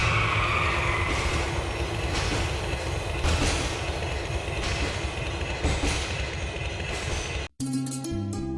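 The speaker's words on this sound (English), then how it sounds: "When driving inside the subway, the trains travel much slower than in regular gameplay." Subway train in GTA IV rumbling steadily through a tunnel, with continuous rail noise and periodic clacks of wheels over track joints, loud and close throughout before cutting abruptly to a brief different sound at the end.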